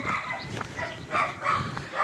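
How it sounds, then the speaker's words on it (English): A dog at a pub lets out a run of repeated barks and yips, fairly close and loud, over a busy background hum. "Oh dear, I'm about to be attacked by a dog"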